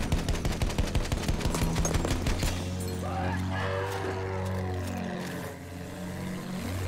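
Rapid gunfire from a landship tank in Battlefield 1, a rhythmic burst of loud shots over the first two seconds that gives way to a droning engine rumble and shifting mechanical tones.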